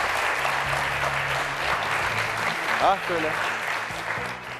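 Studio audience on a Turkish word quiz show applauding steadily, with a brief spoken exclamation partway through and some low musical tones under the clapping.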